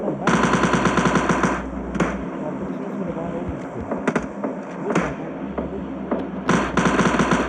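Rapid automatic gunfire in the mobile shooter PUBG Mobile Lite, loud bursts at the start and end with scattered single shots between, a voice talking briefly under the shooting.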